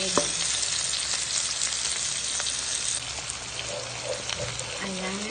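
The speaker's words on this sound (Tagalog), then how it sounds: "Dito na rin tayo magigisa ng bawang sibuyas at ng kamatis" Garlic, onion and tomato sautéing with tofu in a pan, a steady broadband sizzle and hiss throughout with occasional stirring clinks and scrapes.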